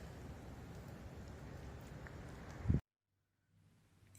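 Steady rain patters outside a wooden cottage in a lush green setting, a dense continuous hiss that cuts off abruptly partway through, leaving near silence with a faint low hum.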